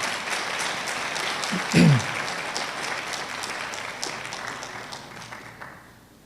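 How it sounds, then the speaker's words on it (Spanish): A church congregation applauds steadily for several seconds, a broad sustained clapping wash under a brief spoken voice, fading slightly toward the end. "¿Por qué no le da un aplauso al Señor?"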